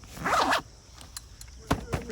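A clothing zipper is pulled up in one quick, close rasp, then small rustles and taps follow in a quiet room.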